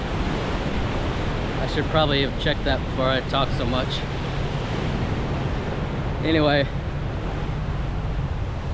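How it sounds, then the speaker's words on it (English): Ocean waves wash onto the shore at the end of a road, a steady loud surf roar with wind buffeting the microphone, while someone talks over it in bursts. "There's a lot of waves."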